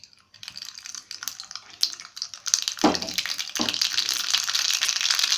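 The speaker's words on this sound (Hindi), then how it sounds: "सबसे पहले अब हम इसमें राई डाल देंगे।" Hot oil crackles and spits as mustard seeds hit it, the sizzling building into a dense, steady popping and frying close by, with a couple of clunks.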